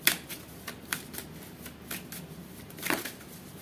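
A deck of tarot cards shuffled up close, with several sharp flicking riffles and quieter sliding in between, clear and without speech.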